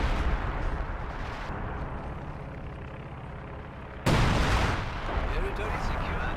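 Artillery booms in a real-time strategy battle, a steady rumble of fire building to a sudden loud blast about two-thirds through, followed by continued heavy firing.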